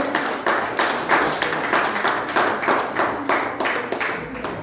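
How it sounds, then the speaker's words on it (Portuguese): Steady rhythmic clapping from a congregation at a church worship service, loud and even, with the beat repeating about twice a second throughout. "Vamos receber com palmas para Jesus."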